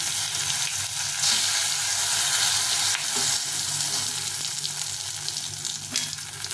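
Whole garam masala of cinnamon, cardamom and cloves, with cumin and two bay leaves, sizzles and crackles steadily in hot oil, a loud, continuous fry from start to finish.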